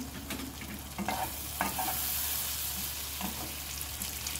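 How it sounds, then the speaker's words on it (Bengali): Oil heats in a pan over a high flame, giving a steady near hiss with faint crackles, and a few soft knocks of a spoon against the pan in the first couple of seconds. "তেল দিলাম, ফ্লেম হাই করে দিলাম।"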